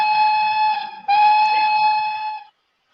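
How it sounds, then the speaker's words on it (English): The Pioneer locomotive in the Trainz Driver 2 game sounds a loud, bright multi-tone steam whistle in two long blasts with a brief break between them, followed by a short pause and a sudden cut-in sound. "that was actually the Pioneer's whistle in Train's Driver 2"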